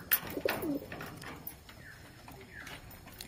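Drowsy, sickly pigeons coo softly and close by in cold weather, a few low throaty calls early on, followed by quieter rustling and faint background noise.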